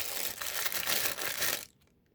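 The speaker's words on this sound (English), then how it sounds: "I shouldn't talk while I'm unwrapping rattly ass plastic bags" Plastic bags crinkle and rattle loudly up close as they are unwrapped from a 1/32 scale Aoshima Suzuki Jimny model kit box, a dense continuous crackling that stops abruptly near the end.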